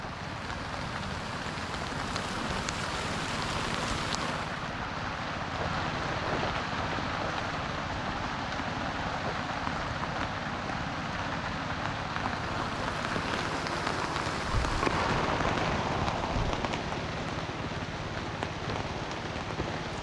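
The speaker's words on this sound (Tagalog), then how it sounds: "Bigla ang ulan." A sudden downpour over a bitter gourd and bean garden, a dense continuous hiss of rain on leaves and surfaces that holds steady for twenty seconds, swelling slightly near the end, with no speech.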